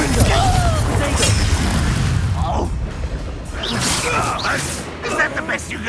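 Fiery magical blast of the Confringo spell in Hogwarts Legacy, a booming whoosh among swirling spell effects and game ambience, with a voice talking over the chaotic battle noise.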